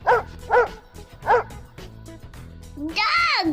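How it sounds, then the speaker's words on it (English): A domestic dog barks and yips in short bursts, three sharp barks spaced about half a second apart, then a higher whining yelp near the end, close and clear with no talking. "dog,"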